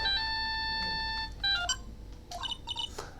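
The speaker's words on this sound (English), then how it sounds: "she also received a phone call from the owner of the phone" A phone ringtone in a Phoenix Wright game plays a short electronic melody of bright, clear beeping tones, followed by a few quieter chirps at moderate volume.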